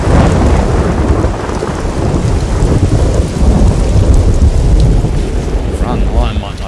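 Thunderstorm in the hunting game theHunter: Call of the Wild, with loud rolling thunder rumbling over steady rain throughout, close and heavy, with no voice.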